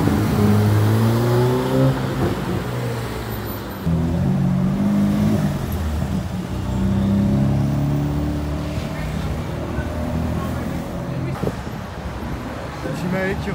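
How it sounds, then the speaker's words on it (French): A Lamborghini Aventador Ultimae supercar passes with a loud, throaty engine drone whose pitch rises and falls, continuous through the whole stretch, with voices mingling underneath. "Lamborghini Aventador Ultimae exceptionnel et F8 Spider."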